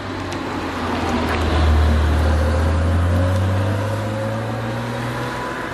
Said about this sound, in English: Okay, a little bit of more spirited driving, please, driver, responsibly.